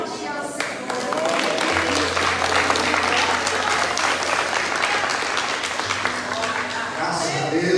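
A church congregation claps during a Sunday worship service, a dense, steady round of applause filling the room for the whole stretch, with a voice speaking faintly underneath.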